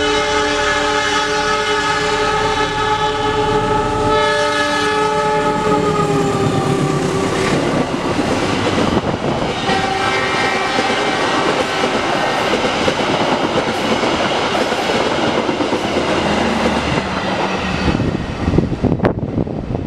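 The Lodaya passenger train's locomotive engine runs loudly and steadily for the whole stretch, with a sustained horn blast early on and a continuous rumble and rattle.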